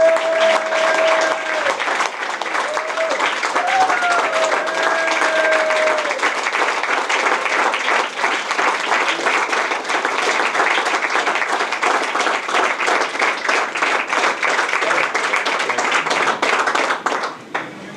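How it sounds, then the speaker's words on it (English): An audience applauds Governor George Deukmejian with loud, sustained clapping from a full room, dense and even throughout, with a few faint voices and brief whistles near the start. "people get up and applaud, and that's very nice"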